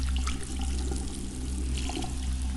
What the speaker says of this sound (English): There is a shower task!